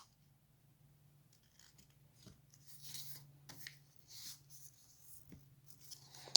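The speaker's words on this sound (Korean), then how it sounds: "이 선이 이 제일 바깥쪽에 닿도록 이렇게 접어주세요" Quiet paper folding for a paper figure of a person: soft rustles, creases and rubbing strokes close by, with a faint low hum underneath.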